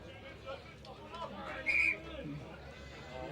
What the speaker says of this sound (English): referee's whistle goes